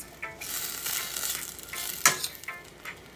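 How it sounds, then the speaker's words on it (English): Oyster mushrooms saute in a hot pan with a close crackling sizzle, and one sharp scrape or clatter from a utensil cuts through partway. "you're going to add your lovely oyster mushrooms, which is your saltfish replacement. Saute that up nice."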